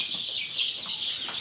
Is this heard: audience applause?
no